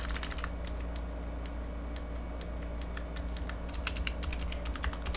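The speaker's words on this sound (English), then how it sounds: "actually it sounds a little bit plasticky" Close keystrokes on a Razer Huntsman Mini mechanical keyboard with clicky switches, individual plasticky clicks at an uneven, moderate pace over a steady low hum, with no talking.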